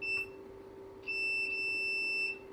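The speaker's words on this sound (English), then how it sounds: "It beeps." A multimeter on continuity test while a fuse is checked during a Commodore Plus/4 repair gives a thin, steady electronic beep. A short chirp is followed by a longer tone of over a second, both close and clear above a low hum.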